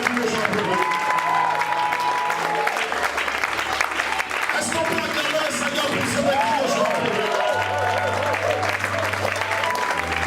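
Church congregation applauding and cheering together, a steady dense wash of clapping with voices rising through it, loud and sustained for the whole stretch.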